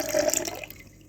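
Sugar syrup poured into watermelon juice for a watermelon mojito, a close, steady liquid pour with splashing that tapers off into quiet after about half a second.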